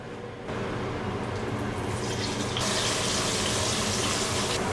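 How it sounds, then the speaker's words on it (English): Chilled French fries go into a deep fryer, setting off a loud, steady hiss and roar of bubbling oil that swells and intensifies partway through and stays close and continuous with no talking. "Now once our French fries have been thoroughly chilled, I can go ahead and toss them into the fryer."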